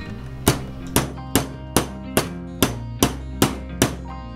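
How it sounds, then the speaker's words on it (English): A hammer taps a small socket set over an axle rivet on a vintage GI Joe toy jeep, ten sharp metallic strikes at an even, unhurried pace, close and with no talk. "After setting the rivet in the socket over the axle, it is driven home with a hammer."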